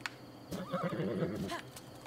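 A horse in the video game Zelda: Breath of the Wild gives a short, fairly near whinny with rough breathy bursts, alone without talk.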